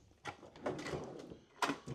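Pull-out drawers in the refrigerator of a 2025 Alliance Paradigm 382RK fifth-wheel RV slide and bump a few times, short near clunks and scrapes in a quiet interior.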